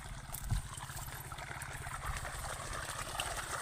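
Irrigation water flows along a channel toward a farmhouse, a quiet, steady rushing trickle with a faint low rumble beneath, continuous and fairly distant.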